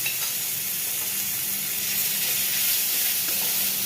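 Ginger garlic paste drops into hot oil seasoned with cardamom and cinnamon and sets up a constant close sizzle and hiss, level and unbroken, with no talking.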